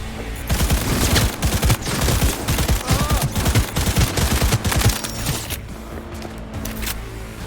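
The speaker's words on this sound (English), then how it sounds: "I'm taking fire!" Dense bursts of automatic gunfire from a firefight in the video game Cyberpunk rattle loud and close for about five seconds, then give way to a quieter ambient rumble.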